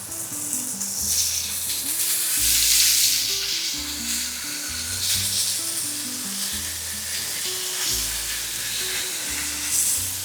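Pork steaks sizzle on a grill with a steady, crackling hiss that swells and fades, close by, beneath low background music.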